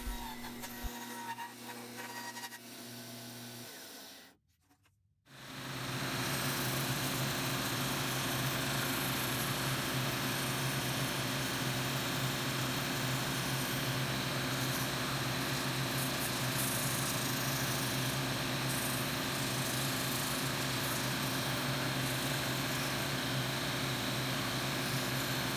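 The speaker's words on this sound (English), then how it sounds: "I'll cut the shape close to the line on the bandsaw, and then I'll sand it down to the line on the drum sander mounted in the drill press." A bandsaw cuts a plywood template for a tenor guitar bridge, then a drum sander runs in a drill press: a steady, loud mechanical whine with a brief drop to near silence before the second, fuller machine drone carries on unbroken.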